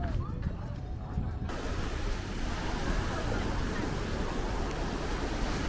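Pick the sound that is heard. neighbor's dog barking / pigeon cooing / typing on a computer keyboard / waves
waves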